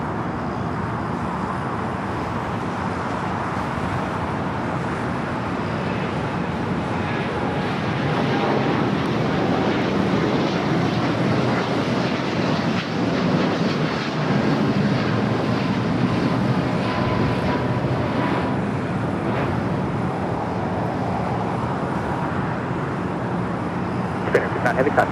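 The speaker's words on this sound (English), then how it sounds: "The Dreamliner now rolling down at 25 right." A Japan Airlines Boeing 787 Dreamliner rolls down runway 25 right at LAX on takeoff, a steady broad jet roar that swells slightly over the run. Wind buffeting and possible background radio chatter are mixed in.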